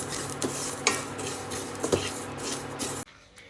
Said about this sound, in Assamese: এতিয়া তিলখিনি অলপ ভাজি লওঁ।